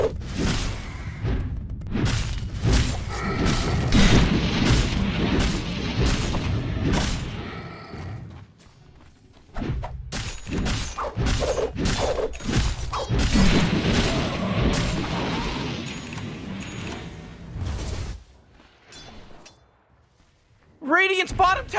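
Dota 2 match with a tower under attack and heavy fighting: dense booming crashes, thuds and whooshing effects pile up loudly, broken by a brief lull and a game announcer-style alert.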